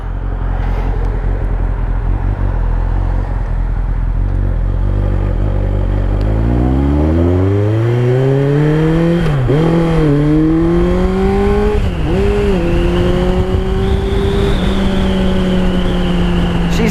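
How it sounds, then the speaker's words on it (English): A 2003 Kawasaki ZR7S sport bike with an aftermarket exhaust pipe rides through a warm night, its engine note climbing through smooth rising revs and gear shifts, loud and steady throughout, with wind rush underneath. "It's crazy how an aftermarket pipe can sound so mellow."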